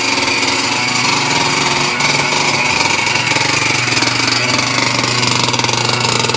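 Dirt bike engine running hard at close range, a loud rapid rattling two-stroke buzz held steady with slight rises in revs throughout, no voices over it.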